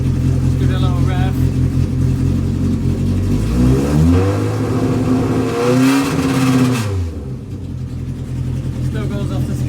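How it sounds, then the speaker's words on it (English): A car engine on a Rapid Rattlers build running at about 67 degrees with excessive oil pressure is revved up and back down, its pitch sweeping up and falling over several seconds before settling to a steady idle, loud and close. "Let's give it a little rev."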